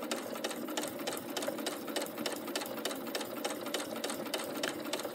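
Sewing machine stitching a small zippered fabric pouch, running in a steady, fast, even rhythmic whir and needle clatter throughout, close and alone without talk.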